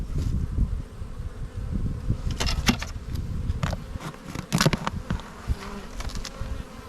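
Honey bees swarm and buzz around an opened green hive during an inspection, a steady, close, loud hum with individual bees zipping past near the ear, plus occasional soft rustling.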